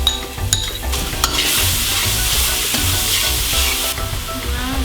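Onion and garlic fry in oil in a wok for a chicken stir-fry with egg noodles. A loud, constant sizzle runs throughout, broken by stirring clinks and scrapes, with no talking.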